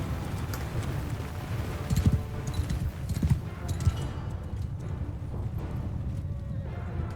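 Horse hooves clop in a Mount & Blade II Bannerlord battle, soft irregular thuds under a steady wash of game ambience, with a few louder hoofbeats in the middle.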